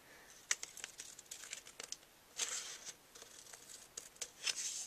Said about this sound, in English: I'm going to take my scissors and I'm just going to trim that right off.